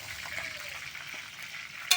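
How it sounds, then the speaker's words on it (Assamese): Onion and chili frying in a pan, giving a steady soft sizzle and hiss throughout with no talk over it, and a brief brighter crackle right at the end. "পেঁয়াজটো আৰু জ্বালাটো ভাজি আছোঁ"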